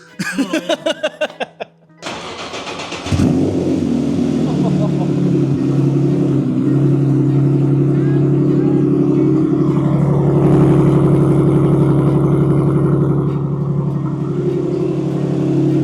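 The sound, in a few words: car engines firing up and revving, race gas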